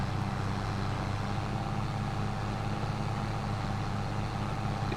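A tractor engine in the video game Farming Simulator 22, working through mud in the rain, gives a steady low idling rumble that drones on alone without change.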